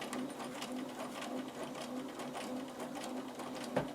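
A sewing machine with a 1/4 inch foot runs steadily, stitching fabric, its rapid needle clatter forming an even, continuous whir, quiet and close.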